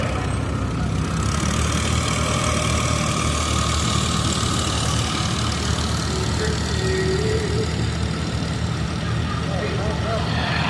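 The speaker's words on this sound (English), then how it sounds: "Unit number 37 is an 1841 case SC with a Century exhaust." A vintage Case SC tractor with a Century exhaust runs at a threshing show parade, a steady engine rumble amid outdoor crowd noise while an announcer speaks over a loudspeaker.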